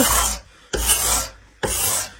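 A hand scraper drags across wooden furniture, stripping a grimy layer of old wax and dirt in three firm, rasping strokes separated by brief pauses, heard close up with no talking.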